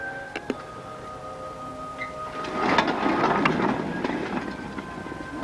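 A small model electric trolley rolls along a track with a low rumbling whir that swells midway, accompanied by scattered clicks and a faint steady tone.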